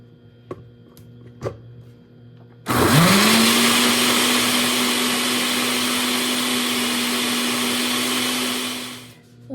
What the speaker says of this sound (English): put all the pulp in your blender,